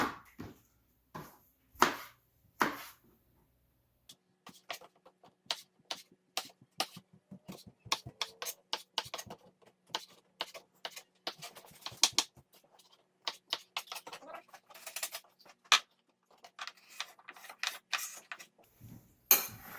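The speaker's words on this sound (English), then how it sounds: "so that's done dicing potatoes, tomatoes, and onions" Kitchen knife dicing potatoes, tomatoes and onions on a cutting board for chimichangas, sharp irregular chopping taps in quick runs and scattered bursts with short pauses, close and fairly quiet, no talk.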